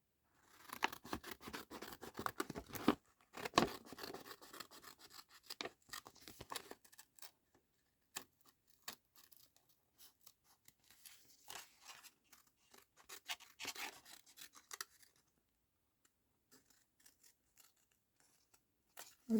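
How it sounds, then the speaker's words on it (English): Scissors cutting around paper for a junk journal craft page: close, crisp snips and rustling in bursts that thin out into scattered quieter cuts and paper handling, with no talking. "I'm just going to cut around this now."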